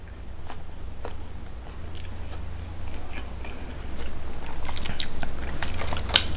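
Crunchy Hawaiian-style chicken wings are bitten and chewed up close, giving repeated crisp crunches over a low steady hum, with no talking.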